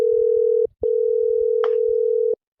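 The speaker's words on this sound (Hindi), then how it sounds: "घंटिया जाइला।" Loud, steady telephone ringing tone heard over a phone line: one long electronic tone, a brief break, then the tone resumes until it cuts off, with faint low background noise beneath.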